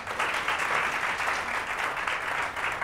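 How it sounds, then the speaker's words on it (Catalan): A studio audience claps steadily during a Catalan television word game show, a dense, even round of applause heard close and without talk. "fem-li un aplaudiment també"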